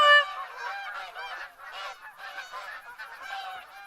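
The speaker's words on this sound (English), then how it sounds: "There's more geese on the way" A flock of geese honks repeatedly in theHunter: Call of the Wild hunting game, a loud overlapping chorus of calls that keeps going without a break and without any talk.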